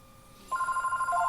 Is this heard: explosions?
no